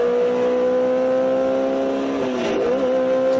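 Race car engine at Laguna Seca howls steadily as it accelerates, then its pitch drops and wavers briefly as it shifts into third gear before climbing again; loud and close, with no talking.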